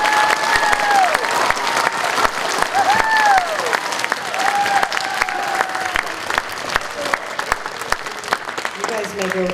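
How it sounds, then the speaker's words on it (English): A round of applause from children and adults at a pre-K school morning assembly, steady dense clapping lasting several seconds with a few children's voices calling out over it. "let's give these friends a big round of applause for their effort"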